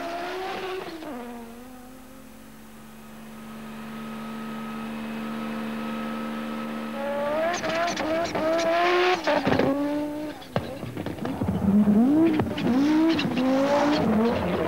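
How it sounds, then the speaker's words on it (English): A Peugeot 205 T16 rally car with a 16-valve engine climbing Pikes Peak in 1987: a steady engine drone gives way to sharp revving and rising and falling pitch through gear changes. A commentator's voice runs over it. "Ari Vatanen in his 16-valve Peugeot 205."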